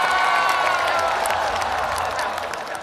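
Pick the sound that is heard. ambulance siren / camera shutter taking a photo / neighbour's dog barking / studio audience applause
studio audience applause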